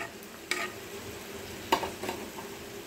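Groundnuts fry in a pan of oil for an oats tarka, a soft continuous sizzle with a few sharp clinks and scrapes of a spoon stirring, fairly quiet and close with no voices.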